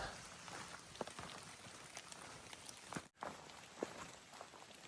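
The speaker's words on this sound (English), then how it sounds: "it's a rainy day out here and just moving along" Rain falls steadily on a hiking trail on the Appalachian Trail in Georgia, a soft continuous patter with occasional footsteps and drips, faint and without speech.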